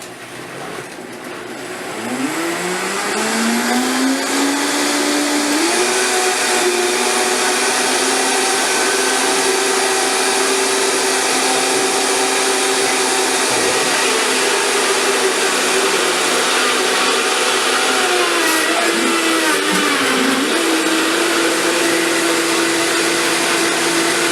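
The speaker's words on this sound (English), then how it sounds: "we're going to turn this on. You always want to make sure that you're on 1 when you do your Vitamix" A Vitamix blender running on speed 1 whirs loudly and steadily, rising in pitch as it spins up and then holding a constant churning roar with slight dips as it blends a green smoothie.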